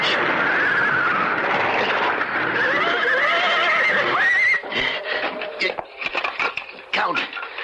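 Horses neigh and whinny excitedly in a radio drama effect, with hooves clattering beneath loud overlapping cries, followed by choppier bursts of whinnying and stamping as the noise breaks up.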